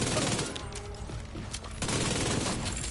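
Rapid gunfire in The Division 2 video game, dense bursts of shots in a continuous fusillade with a brief lull before the firing resumes loudly.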